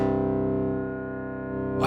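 A sustained synth tone played through a convolution sample of a spring reverb tank rings out rich in harmonics, with a metallic, wobbling reverb shimmer and a brighter burst at the very end.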